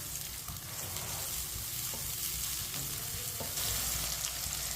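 Two finely chopped onions frying in a cup of oil while being stirred, a steady close sizzle with occasional scraping stirs, no talking.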